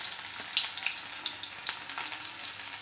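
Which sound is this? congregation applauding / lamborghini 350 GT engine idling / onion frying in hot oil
onion frying in hot oil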